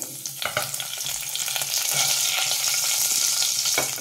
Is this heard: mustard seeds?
yes